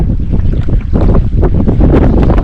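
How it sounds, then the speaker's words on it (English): Strong wind blows off the water onto a beach, roaring as loud, continuous buffeting gusts close against the microphone for the whole stretch. "the wind is right in our face here, coming from the water up to the shore"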